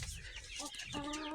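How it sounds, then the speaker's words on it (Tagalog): Laying hens on a farm in very hot weather cluck close by in a steady run of short, throaty calls, with a clearer, drawn-out cluck near the end. "So ito yung mga inahin natin."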